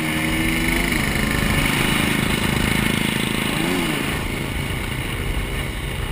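Scooter engine at a 2012 Confederate Chapter AMCA scooter ride, a steady buzzing drone that rises in pitch, dips at a gear change, then climbs again, loud and close without talk.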